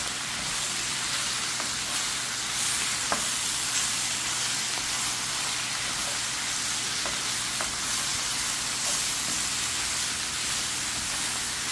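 Spinach sautéing in a pan gives a loud, continuous sizzle and hiss, with a few faint clicks of stirring scattered through it and no talk.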